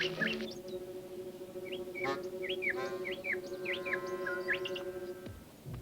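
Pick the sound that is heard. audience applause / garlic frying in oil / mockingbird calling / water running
mockingbird calling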